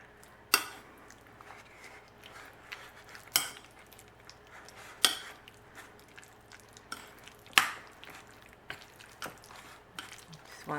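Ricotta and other cheeses mixed together in a bowl for baked ziti: soft squishy stirring punctuated by several sharp clinks of a utensil against the bowl at irregular intervals, close and fairly quiet.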